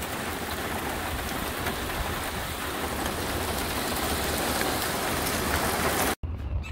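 Steady, loud rain pours down outdoors during a Ford Bronco Sport battery replacement, a dense continuous hiss that runs unbroken before cutting off abruptly near the end.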